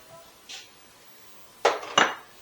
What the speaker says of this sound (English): So we're going to put olive oil at the bottom of the pan.